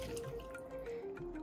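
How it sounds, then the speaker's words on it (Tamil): Two tumblers of water are poured over jeeraka samba rice in a pot, making a soft, steady trickle and splash with a faint rising tone and no voices. "நான் என்னோட ஜீரக சம்பாக்கு 2 டம்ளர் தான் விட போகிறேன்."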